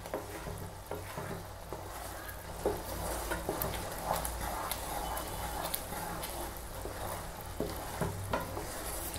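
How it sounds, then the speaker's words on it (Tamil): Thick dates halwa with sugar syrup boils in a pan while a spoon keeps stirring it, giving continuous soft bubbling, sizzling and scraping at low volume. No voices are heard. "கை விடாமல் கிளறிட்டே இருங்க."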